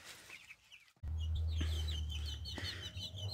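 Short clucking and chirping calls from a rooster and other fowl repeat over a loud, steady low hum that starts abruptly after a moment of quiet.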